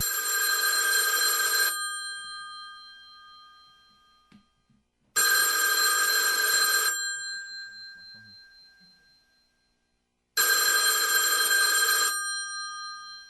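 An old-style telephone bell rings in three long trilling bursts, each about two seconds, separated by several seconds of silence as the ringing fades out.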